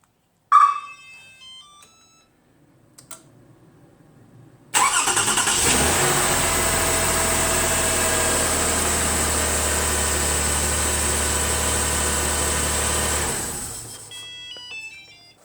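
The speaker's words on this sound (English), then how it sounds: "This is the remote start, and I'm going to start the car and just listen to how it cranks." A car engine cranks once via remote start, catches, and settles into a steady, loud idle that runs for several seconds before shutting off, with a faint beep or chime at the start and end.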